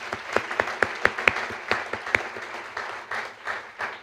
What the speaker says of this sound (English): And while we're clapping